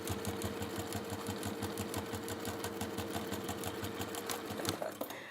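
A sewing machine stitching a fabric journal cover with PU and cork runs at a fast, even rhythm of close mechanical needle strokes, steady throughout and slowing at the very end, with no talk.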